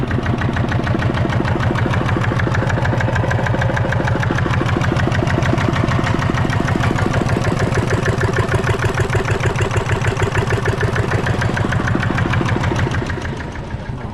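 An old motorcycle engine at a used-motorcycle market in Łódź idles close by, a loud steady rapid putter with a regular knocking pulse throughout that softens slightly at the end.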